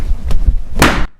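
A door slams shut with a loud, close thud after some lighter knocking and shuffling, then the sound cuts to silence.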